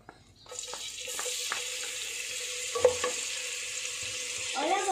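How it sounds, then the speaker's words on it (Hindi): Noodles sizzle and hiss as they are stir-fried in hot oil with crushed garlic for chicken hakka noodles, close and steady, with scattered spatula scrapes and taps against the pan and no talk. "और अब हम इसे 2 मिनट फ्राई करेंगे।"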